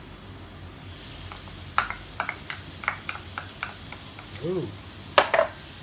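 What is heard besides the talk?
garlic and onion frying in olive oil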